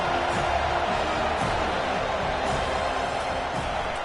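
Stadium crowd noise from the NCAA 2025 football video game, a steady broad roar of fans backing the defense on a big third down at Alabama versus FSU, continuous and fairly loud throughout.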